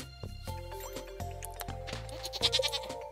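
Sheep in the video game Stardew Valley bleat several times over a soft, steady game melody, the calls close and fairly clear.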